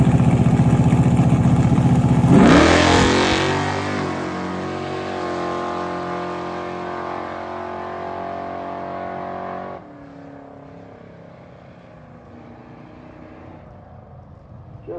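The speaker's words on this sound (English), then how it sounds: "here's the last pass that it made in September of last year." A 1968 Plymouth Barracuda Fastback makes a drag racing pass, its engine roaring loud and near at launch, then howling steadily as it pulls away, cutting back sharply toward the end and fading to a lower rumble.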